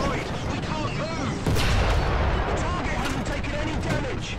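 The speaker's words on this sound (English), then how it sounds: "I'm shooting at an NPC tank." Tank cannon fire in War Thunder, aimed at an AI-controlled tank: heavy booming shots with a big blast near the middle, over a dense rumble of battle noise while a voice talks.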